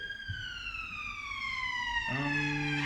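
An ambulance siren wails nearby in a steady falling tone. Partway through it switches abruptly to a lower pitch and grows slightly louder, with faint background noise around it.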